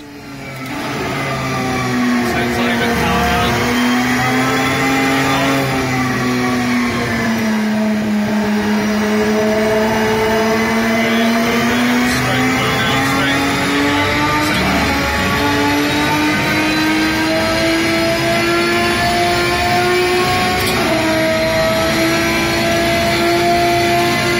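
A loud Aston Martin race car engine on the Silverstone circuit drones at sustained high revs, its pitch rising and falling smoothly as the car works through corners, close and continuous with no talk.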